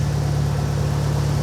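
A BMW 116i engine idles in closed loop, a steady low rumble with a regular pulsing beat, close and loud with no other sounds.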